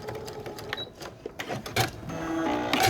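A sewing machine stitches a cat quilt block, its needle running in bursts of fairly loud mechanical rattling that stop and restart through the passage, with a steady whir underneath.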